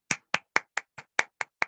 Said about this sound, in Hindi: आप सभी लोग अपने माइक को अनम्यूट करके जोरदार तालियों के साथ मैम का वेलकम करें